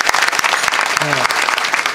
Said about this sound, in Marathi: एकदा त्या सगळ्यांसाठी जोरदार टाळी वाजवा.